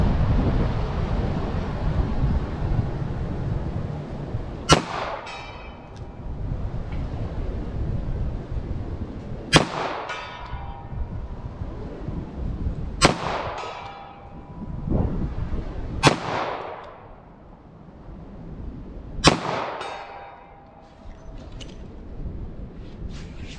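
.38 Special rounds fired from a short-barrel handgun, five sharp cracks spaced several seconds apart outdoors, with wind buffeting the microphone between shots.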